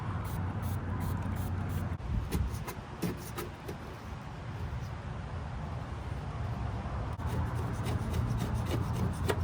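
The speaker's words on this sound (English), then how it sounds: "Just start scraping" Steady scraping and rubbing as stickers are worked off a Yamaha F25 outboard cowling after a Goo Gone soak, a close continuous rasp with short bursts of strokes and a low background hum.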